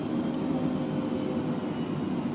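A Phenom 100 jet cruising in Microsoft Flight Simulator, its engines giving a steady, even broadband roar with a low hum, continuous and unchanging.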